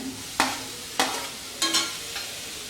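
Shredded cabbage and carrot are stir-fried for spring roll filling, with four sharp spatula scrapes and tosses at steady intervals over a soft constant sizzle.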